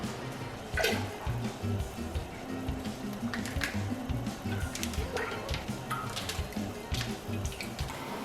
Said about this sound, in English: So let's pour it into the pot.